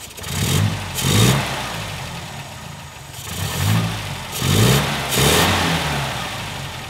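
An MGA's engine cranks and catches, then revs up and settles into a rough idle, with the engine swelling and easing a few times, close and fairly loud with nobody talking.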